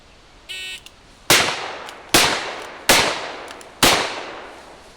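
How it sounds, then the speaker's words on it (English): Four loud, sharp revolver shots from a single action handgun fired at a target, spaced evenly under a second apart, each with a decaying echo, preceded by a brief electronic beep. "fire the first shot, cocking with my shooting hand and firing the shot"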